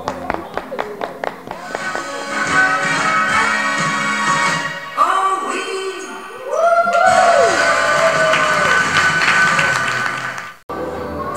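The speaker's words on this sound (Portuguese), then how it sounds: "Turma OK merece o nosso aplauso." A Brazilian TV studio audience applauds the Turma OK group, starting with scattered claps and building into sustained applause, with music and singing rising over it toward the end.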